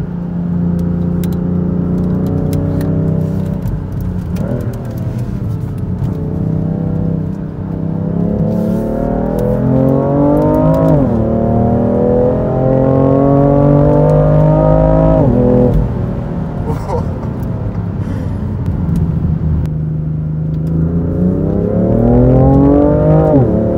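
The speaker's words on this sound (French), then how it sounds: "son du 6 cylindres" A BMW M3 F80 Competition's six-cylinder engine revs hard through several rising pulls, its growl climbing in pitch each time before dropping back, loud and close with no talking.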